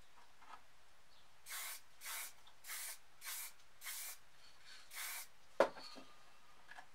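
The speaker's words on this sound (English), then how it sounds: "And then just spray some black." Seven short bursts of black aerosol spray paint hiss in a steady rhythm, close and fairly loud, followed by a sharp click.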